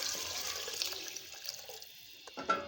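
Water is poured into a pot of roasted chickpeas, a soft splashing gurgle that thins out and ends in a few faint clinks.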